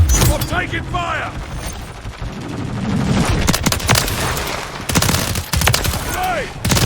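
Dense gunfire from a Call of Duty: Modern Warfare 3 war-mode match, with overlapping bursts, sharp impacts and mechanical clatter that stay loud and busy throughout, while game voices shout in the mix.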